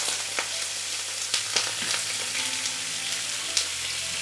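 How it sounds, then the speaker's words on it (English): About 400 grams of frozen spinach sizzles and crackles steadily in a hot pan, with occasional sharp pops and spits from leftover water over a constant frying hiss. "As it starts sizzling, I will be adding some frozen spinach."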